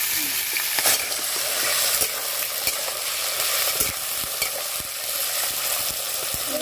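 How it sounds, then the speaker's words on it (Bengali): Potatoes frying in hot oil, a steady broadband sizzle with crackles throughout and occasional soft knocks, no speech. "তেল গরম হয়ে গেছে, এবার আলু ভেজে নেব"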